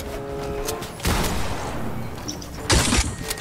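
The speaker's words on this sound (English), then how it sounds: "I just got sniped, dude" Sniper rifle fire in a shooter video game, two sharp, loud cracks about two seconds apart that hit the player, standing out over a faint game background with no talking.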